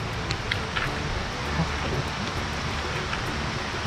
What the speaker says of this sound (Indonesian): Bunyi sungai.